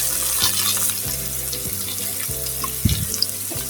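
Bitter gourd (karela) fries in a pan for a mashed bhorta, a loud close sizzle broken by periodic scraping turns and a sharper clatter near the end.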